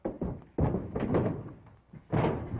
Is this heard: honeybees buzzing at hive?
no